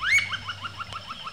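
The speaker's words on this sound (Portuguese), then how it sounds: "Outra preciosidade do gênero Celeus é o pica-pau do Parnaíba, também chamado de pica-pau da taboca." Kaempfer's woodpecker, a rare Brazilian Celeus species, gives a loud, clear call: an opening note followed by a rapid, evenly spaced run of about eight descending, ringing notes, close and alone.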